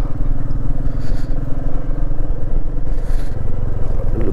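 Royal Enfield Meteor 350 motorcycles riding together on a mountain road, a loud, steady thumping engine drone up close with a little rattle and wind, continuous throughout.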